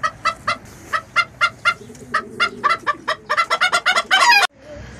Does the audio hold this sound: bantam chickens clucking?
yes